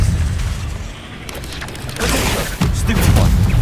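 A spell is cast in the Hogwarts Legacy video game, with whooshing magical blasts and booming impacts bursting out over a steady rumble of game noise, the second burst loud and sustained.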